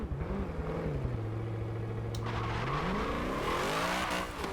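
A 1993 Ford SVT Cobra R "Foxbody" launches in Forza Motorsport 7, its engine revving loudly and rising in pitch while the tires chirp and squeal under wheelspin.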